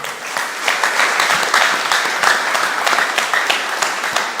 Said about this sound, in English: with a huge round of applause, shall we welcome Mr. Joseph Berkoh